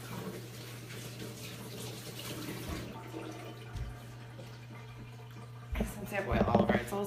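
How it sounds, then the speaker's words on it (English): Tap water runs steadily while hands are rinsed of olive oil in a home kitchen during taco prep, a continuous broadband rush that swells louder and splashier near the end, with a low hum underneath. "I'm gonna rinse my hands off."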